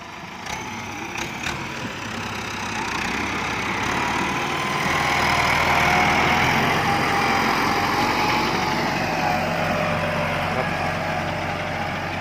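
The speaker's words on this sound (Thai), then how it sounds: "วันนี้อยู่กับรถไถนิวฮอลแลนด์" A large New Holland 7740 tractor with an air-conditioned cab runs steadily nearby, pulling an eight-disc plough, a continuous droning hum that swells slightly in loudness partway through.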